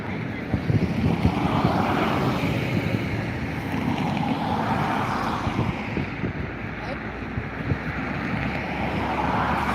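Aer Lingus airliner taking off at Dublin Airport, a steady broad engine roar that holds at a constant level throughout, with faint voices mixed in.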